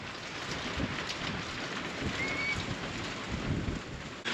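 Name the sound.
rain falling outside a barn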